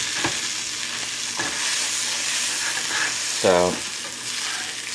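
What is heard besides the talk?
hamburger meat frying in a pan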